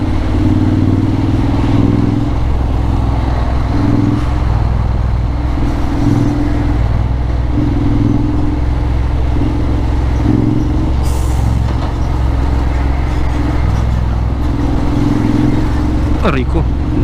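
A Honda XADV 750 motorcycle rides through heavy traffic among trucks, a loud, steady low engine drone with rising and falling pulses of throttle, wind buffeting and a voice talking over it.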